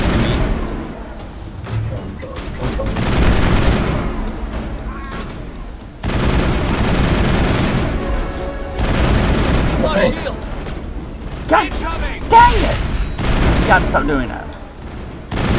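Gunfire in Mass Effect, sustained weapon shooting in bursts and booms across the stretch, loud and close, with people talking over it.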